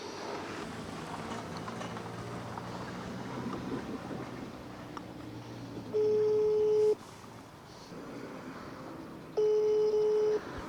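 An unanswered telephone call to a house in Ukraine, with two steady ringback tones, each lasting about a second, sounding over a low background murmur.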